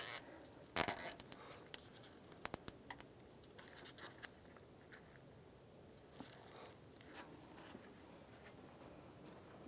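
A plastic zip tie ratcheting tight around a coolant hose on a 1992-1996 Ford F-150 radiator fan job, heard as short close clicky zipping bursts separated by quiet pauses.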